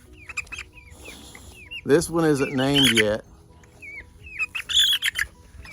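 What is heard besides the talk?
chickens clucking and chirping during wing feather clipping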